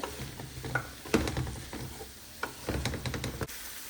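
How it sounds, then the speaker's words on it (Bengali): Vegetables stirred and fried with spices in a pan, giving a close sizzle with repeated scraping and knocking strokes of a spatula at an uneven rhythm. "এই যে সবজিটাকে আমি ভালো করে নেড়ে চেড়ে সব মশলার সাথে মিশিয়ে নিয়েছি।"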